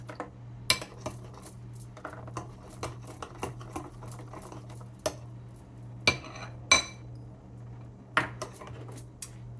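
Walnuts tipped into frozen banana ice cream for a vegan Chunky Monkey-style dessert, heard as a run of sharp clinks and taps against a bowl, scattered irregularly over a steady low machine hum.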